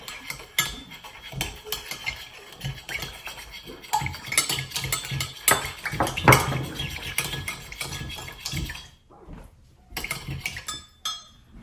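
Quinoa salad dressing with ground pepper is stirred and tossed in a bowl, producing close, irregular clinks and scrapes of utensil against dish, with a brief pause near the end before the clatter resumes.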